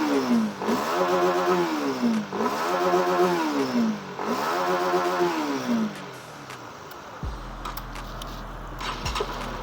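A K56 car engine idling while the radiator is bled, running with a rhythmic rising and falling mechanical whine for several cycles, then settling into a steadier hum with clatter and a low drone near the end.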